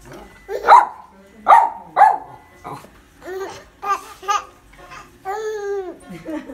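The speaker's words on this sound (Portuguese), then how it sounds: "o cachorro latindo" Several sharp barks from a nearby dog in quick succession, followed by a child's babbling and laughing voice.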